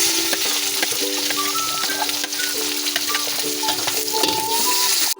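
Onions sauté in a hot pan for a Bicol Express made without ginger: a steady, loud, close sizzle with crackling pops that runs nearly unbroken, then cuts off abruptly at the very end.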